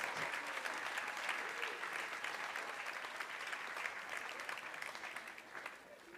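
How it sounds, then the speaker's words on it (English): Sustained applause from a sizable theatre audience for the cast of The Velveteen Rabbit, a dense steady clatter of clapping that slowly thins toward the end. "one more round of applause for this wonderful cast"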